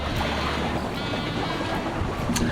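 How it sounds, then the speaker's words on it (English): Home-built sailboat sailing wing on wing off the limestone coast of Mallorca, with steady wind rush and water noise around the hull, continuous and fairly loud throughout. "We're sailing, wing on wing."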